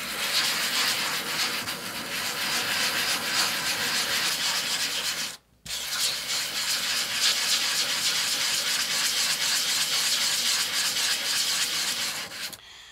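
Steady wet grinding and rubbing of two stacked glass sheets with wet grit between them, a continuous gritty scraping with one brief pause midway, close and fairly loud.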